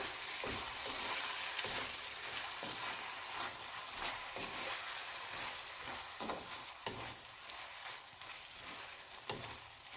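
Okra masala with finely chopped coriander is stirred in a pan on a medium flame, giving a steady broadband sizzle broken by repeated scraping strokes of the spoon for the full ten seconds, with no talk.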